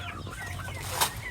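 Egg-laying layer hens cluck on a rural farm, a short, close cackle rising over a low background hum.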